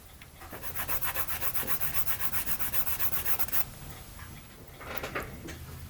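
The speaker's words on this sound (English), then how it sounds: "Maybe I should take and sand that just a little bit flatter." Wooden model ship part rubbed flat on sandpaper, a fast rhythmic back-and-forth rasp of about a dozen close strokes, then a pause and a shorter second burst of sanding.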